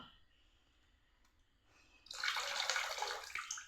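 Quiet room tone, then liquid pours and splashes steadily into a bucket of water during the last second and a half, while making homemade phenyl floor cleaner.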